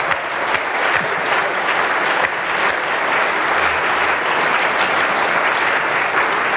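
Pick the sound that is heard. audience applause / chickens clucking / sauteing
audience applause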